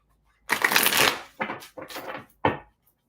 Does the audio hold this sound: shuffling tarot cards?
yes